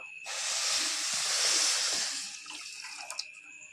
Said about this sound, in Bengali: যতটা চিনি দিয়েছি ঠিক ততটাই জল দিয়ে দেবো